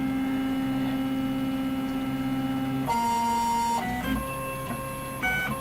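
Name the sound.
Robin 3D printer auto leveling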